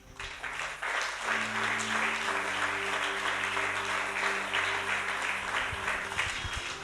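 Sustained congregation applause during a French-language church sermon, dense and steady for the full stretch, with a low musical drone and hum beneath the clapping.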